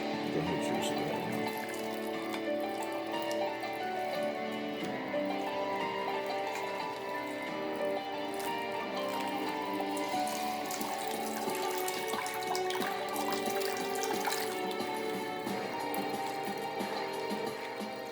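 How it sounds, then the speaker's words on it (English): A coconut is rinsed under a running tap, water splashing steadily and fairly loudly into a sink for the whole stretch, with no talking. "I'm washing the coconut off"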